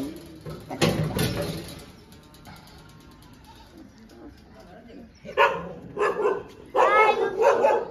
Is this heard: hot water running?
no